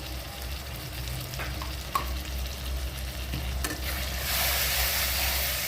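Spices and tomatoes for palak paneer sauté in a pan with a soft, steady sizzle and occasional stirring scrapes and clinks, fairly faint and without talk.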